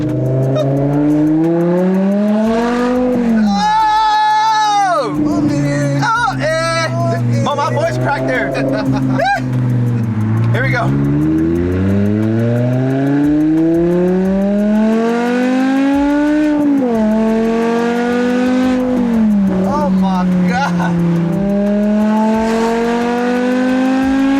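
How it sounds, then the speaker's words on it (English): A BMW E60 M5 on a test drive, its engine loud and close as it revs and accelerates in rising sweeps, dropping briefly between gear changes and climbing again, with people talking over the engine. "We're gonna take the car for a drive and see if it doesn't leave us stranded."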